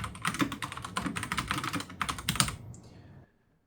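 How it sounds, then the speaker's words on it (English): Steady typing on a WYVERN K689 PRO mechanical keyboard with red switches, a fast run of soft clicky keystrokes close up, stopping abruptly near the end. "I'll just demonstrate the red switch here on this keyboard, and I'll stop talking so you can see what it sounds like"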